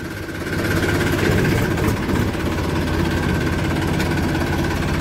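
A tractor engine idles while parked next to a sugarcane-loaded trolley, a steady, loud low rumble with constant vibration that runs unbroken for several seconds, with no voices over it.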